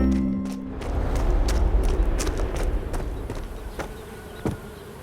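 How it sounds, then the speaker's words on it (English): Busy bees buzz steadily as they fly around near a beehive, a continuous close hum with a few faint clicks and taps mixed in. "I love watching busy bees flying all around."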